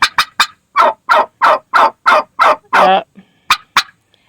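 Hens, one of them with a crooked beak, call out in the morning with a run of sharp, clucking squawks, close and loud, and a short drawn-out cry partway through, while a person briefly speaks.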